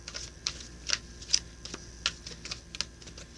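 A deck of tarot cards shuffled by hand, giving a quiet series of crisp, irregular flicks and clicks at close range, with no voices.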